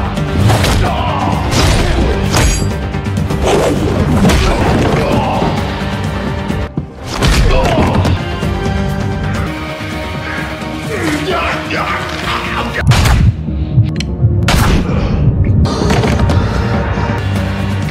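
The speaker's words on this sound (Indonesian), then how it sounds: "pria misterius itu tiba-tiba muncul dan menembak Hatcher hingga tewas" Gunshots ring out in an action film as a mysterious man shoots a mafia thug dead, sharp loud bursts punching through a dense, continuous mix of dramatic score and crashing impacts.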